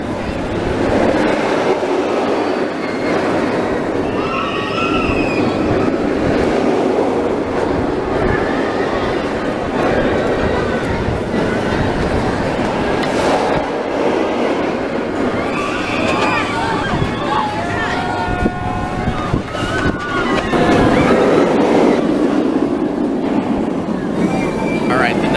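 Mr. Freeze roller coaster at Six Flags St. Louis, a steady loud rumble and rattling roar with scattered squeals and screeches running throughout under someone talking.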